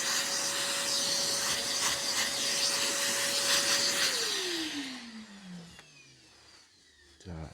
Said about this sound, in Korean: 공업용 청소기가 있어요.